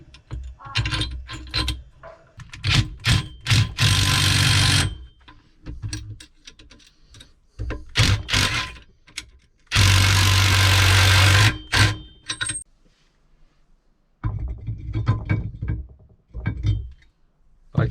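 Rapid clicking bursts from a hand tool bolting a brake bracket onto a Ford Fiesta ST during an EBC 300mm big brake kit install, several short ratcheting runs separated by pauses, close and fairly loud.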